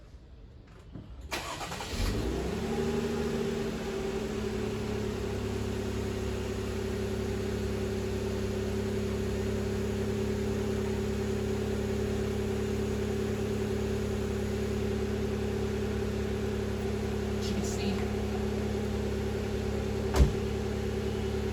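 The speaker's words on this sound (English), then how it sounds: "we gotta press the brake right there and push the start button to start" A 2022 Jeep Wrangler Unlimited Sahara with a 3.6 liter Pentastar V6 is started by push button: a short starter crank catches into a steady, even idle hum that holds close and loud for about twenty seconds, with no talking.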